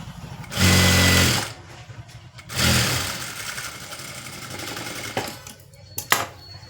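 Sewing machine stitching a cross belt onto a blouse, running in two short loud bursts a second or so apart, followed by quieter handling noises and small clicks.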